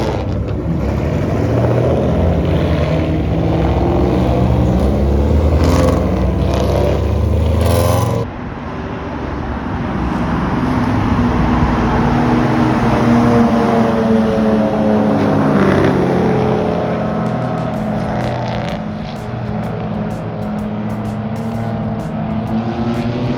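Race cars roar off at the start of an endurance race at VIR, engines loud and sustained as they accelerate, with a sharp shift in pitch partway through and steady howling that continues as the field pulls away.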